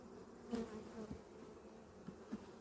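Dense buzzing of many honey bees crowding a hive frame, a steady close hum with a few louder passes as individual bees fly near, no talking.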